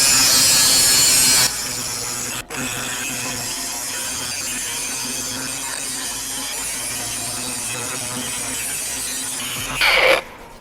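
Bosch GWS 18V-15SC cordless 18V grinder grinding steadily, a loud continuous abrasive whine and rasp lasting several seconds with a brief dip, ending in a short spin-down.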